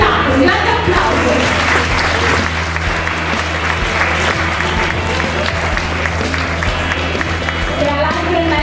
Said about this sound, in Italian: ringraziamo con un grande applauso il titolare Giuseppe Regino per averci ospitato